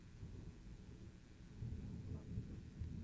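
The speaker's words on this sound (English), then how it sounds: "You hear that thunder out there?" Thunder outside during a storm, a low distant rumble rolling on steadily for about three seconds and swelling louder in the second half, faint overall with no voices.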